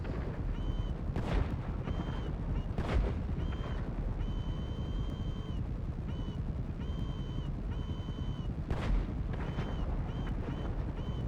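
Gunfire in the GTA Online video game, with broadband sharp bursts at a few points over a steady game soundscape of engine drone and tonal beeps, the shots fairly loud but sparse.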